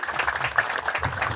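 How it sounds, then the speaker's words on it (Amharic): An audience at a craft school graduation ceremony breaks into dense, continuous applause, a brief burst of many hands clapping together. "አጨብጭቡላቸው።"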